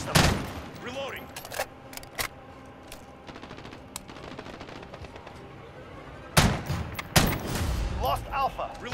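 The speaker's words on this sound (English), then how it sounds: "Select burst fire." Gunfire in the online shooter Call of Duty: Modern Warfare on the Hackney Yard map, with sharp loud bursts near the start and again around the seventh second over a steady bed of distant battle noise and game callouts.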